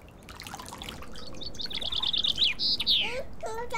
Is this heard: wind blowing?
no